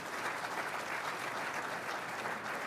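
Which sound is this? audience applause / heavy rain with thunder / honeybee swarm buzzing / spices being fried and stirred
audience applause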